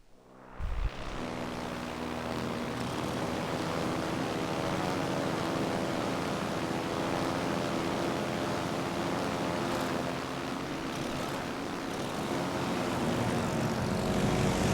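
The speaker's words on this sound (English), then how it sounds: "Jäger in der Luft." Fighter planes drone steadily overhead in a World of Warships Legends naval battle, a continuous propeller-engine hum layered over game ambience, loud and sustained throughout with no talk.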